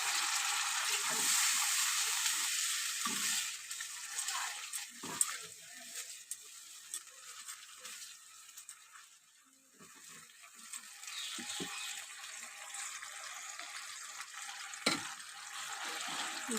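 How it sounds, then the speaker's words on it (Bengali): Water poured into spices frying in a pan, the spices cooked down for an egg and onion dish. Steady sizzling and bubbling continue throughout at moderate level, with occasional stirring knocks and no talk. "আমি এবার অল্প জল দিয়ে দেবো।"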